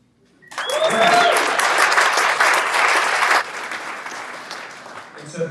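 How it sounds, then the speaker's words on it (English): A club event audience bursts into loud applause and cheering that holds strong for about three seconds, then thins into scattered clapping as it fades. "I'm sure they're going to give themselves a cheer."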